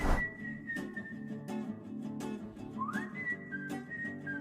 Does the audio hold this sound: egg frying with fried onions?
no